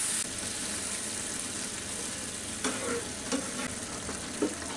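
Semai vermicelli stirred in a pan with chopped almonds and peanuts over a low flame, giving a steady soft sizzle with a few light scraping knocks of the spoon toward the end; no voices.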